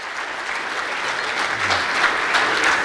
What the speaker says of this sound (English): Can you give these beautiful families a little round of applause?